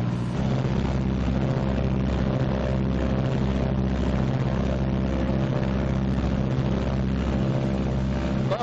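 Twin engines of a 1944 Martin B-26 Marauder run up together to about 1,800 RPM during a pre-flight check, a loud, steady, continuous droning roar with a throbbing pulse throughout.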